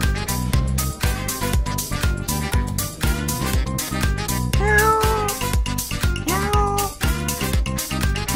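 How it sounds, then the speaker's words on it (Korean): A cat meows a few times, drawn-out rising cries standing out over steady rhythmic music playing throughout. "어, 고양이도 있어."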